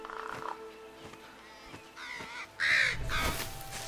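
Crow cawing in the VR video game Moss: a few harsh caws burst out near and loud over soft ambient game sound.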